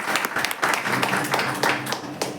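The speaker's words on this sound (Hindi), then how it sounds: "आइए हम ताली मारेंगे" Congregation clapping during a church sermon, a dense steady patter of many hands through the whole stretch, fairly loud, with a voice faintly mixed in.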